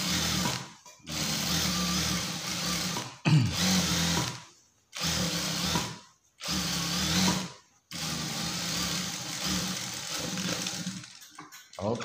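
A sewing machine stitching jeans runs in several steady whirring bursts of one to three seconds, separated by brief silent pauses, close and fairly loud with no talking.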